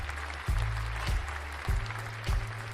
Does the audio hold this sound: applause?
yes